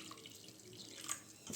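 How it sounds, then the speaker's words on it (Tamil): Three cups of water pour and splash softly into a pan for cooking semolina, a quiet, continuous trickle with small surges. "நான் 3 கப்பு தண்ணி சேர்த்துக்கிறேன்"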